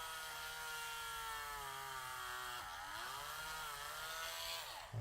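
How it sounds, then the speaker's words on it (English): A power drill runs steadily into the flat side of a boat hull during repairs, a continuous whining motor with a brief dip in pitch partway through, close by and with no talk. "I'm just going to drill on this flat side over here."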